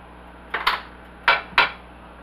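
Collard green soup being ladled into a bowl, heard as a few sharp clinks and scrapes of a utensil against dishware, close by, in two quick pairs with short pauses between.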